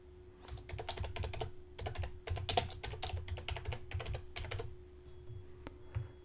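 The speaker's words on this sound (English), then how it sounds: "So I'm going to highlight this and delete it and type my title" Keys clack steadily on a computer keyboard as a title is typed, a close, fast run of taps in short bursts with brief pauses, fairly quiet and with no talking.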